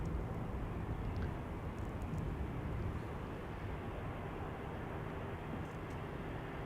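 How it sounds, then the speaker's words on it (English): A motor vehicle travels along a road near a busy airport, its steady broadband rumble holding loud and continuous throughout without any break. "Oh, it's a motor on the road."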